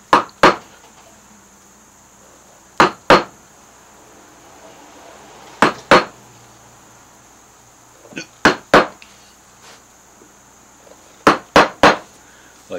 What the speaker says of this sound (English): I'll take that little curved gouge like this and make a little hook on the ends of these pieces.